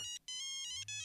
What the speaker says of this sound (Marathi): फोन आला.